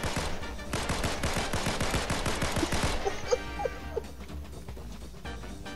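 Rapid bursts of gunfire in Fortnite, dense automatic shots for about three seconds, then scattered single shots and small impact sounds, loud and close with no talk.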